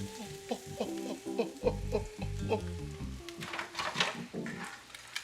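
Whiting fillets in a mustard coating fry in hot oil, sizzling and crackling steadily up close. Loud pops and spatters come as more pieces are dropped into the pan, and there is no talking.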